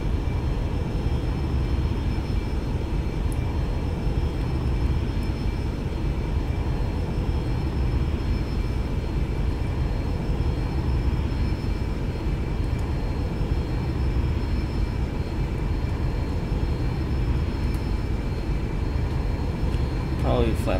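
Default Boeing 747 jet engines roaring at takeoff in the X-Plane 11 flight simulator, a steady, loud, broadband rumble that holds without a break for the whole stretch, with no voices over it.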